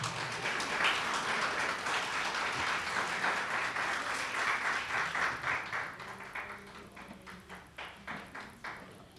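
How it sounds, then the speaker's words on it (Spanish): Warm applause from a church congregation welcoming a priest, Father Rubén, at an evening triduum service for Saint Louise de Marillac; dense, sustained clapping from many hands that thins into scattered individual claps as it dies away. "le damos un caluroso aplauso al padre Rubén"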